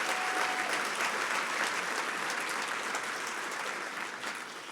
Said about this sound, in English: Please give Senator Crapo another round of applause for his great work.